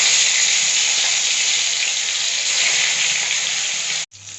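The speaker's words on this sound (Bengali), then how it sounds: "তেল গরম হয়ে গেছে, আমি এখানে মাছগুলো ভেজে নেব।" Fish frying in hot oil in a wok, a loud, steady close-up sizzle that holds without pause for about four seconds and then cuts off abruptly, leaving near silence.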